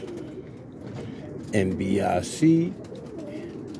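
Kit pigeons, Boston ripping rollers kept outdoors, give a couple of soft low coos over steady outdoor background noise, with a voice speaking briefly.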